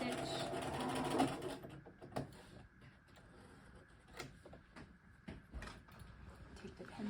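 A sewing machine back-stitches a soldier jacket sleeve in a short whirring burst, followed by quiet scattered clicks and handling sounds of fabric and pins at close range.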